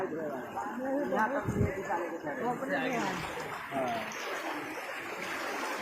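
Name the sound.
flood water flowing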